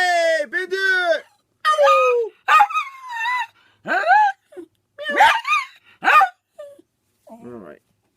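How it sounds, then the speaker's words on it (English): A pet dog indoors barks and whimpers close by, a run of yips, whines and short barks with gaps between them, loud and clear. "I don't know why the dog's coming down here"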